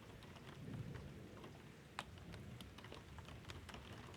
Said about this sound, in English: Can you feel the gentle tapping of the rain against the window?